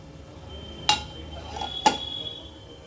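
A metal lid is set onto a cooking pot of fish steaming with rice, two sharp close clanks about a second apart against a quiet kitchen background.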